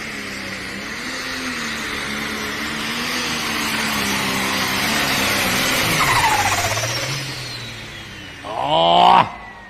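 A pulling tractor at a county fair tractor pull roars loudly under a heavy load, its engine pitch sagging as it bogs down and stops, followed by a brief harsh burst near the end.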